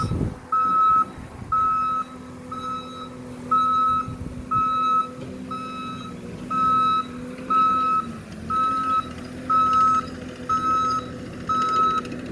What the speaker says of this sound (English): that noise, that backup noise